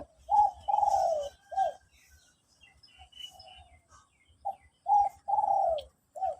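A dove coos in repeated soft, low phrases with short pauses between, close by, with faint chirps from other birds in the background.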